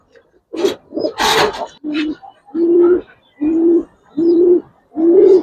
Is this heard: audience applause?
no